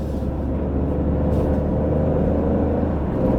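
An Alfa Romeo Stelvio Quadrifoglio SUV engine on the move, producing a continuous loud low drone mixed with road rumble from inside the cabin, with no voices.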